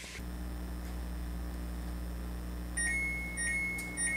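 A kitchen timer beeps in short repeated electronic tones, several chirps in the last second and a half, over a steady appliance hum while stuffing cooks.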